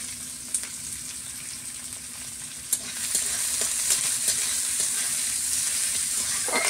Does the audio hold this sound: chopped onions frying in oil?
yes